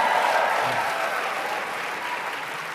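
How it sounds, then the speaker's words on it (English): An audience at a network marketing speakers event applauds, a dense sustained wash of clapping from a large crowd that holds steady and slowly fades, with no talk over it. "give yourselves a tremendous round of applause"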